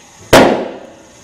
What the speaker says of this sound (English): That's the sonic boom made from H2O.